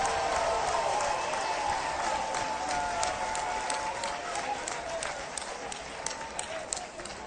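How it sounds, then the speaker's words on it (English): Audience applause at a Louisiana governor-elect's victory speech, a dense roomful of clapping that holds steady and slowly thins toward the end, with a cheer or voice faintly mixed in. "Let's give her a round of applause"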